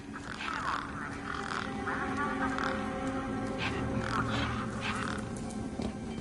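Several crows caw repeatedly in the video game Beyond A Steel Sky. The harsh calls come in overlapping bursts over a steady outdoor ambience, and no one speaks.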